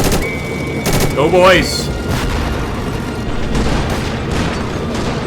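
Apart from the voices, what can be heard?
gunfire in video game The Interwar Mod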